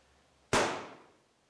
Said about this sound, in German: Okay, ich habe den Schuss verschwendet.